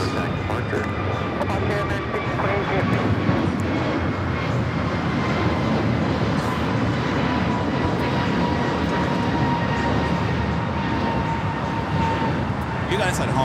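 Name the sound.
Airbus A321neo airliner taking off at LAX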